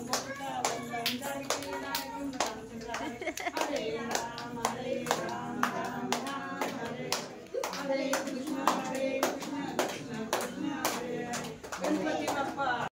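Repeated hand clapping from a mother-in-law at an evening orchestra show: quick, steady claps that run nearly unbroken over a dense background of music and crowd noise.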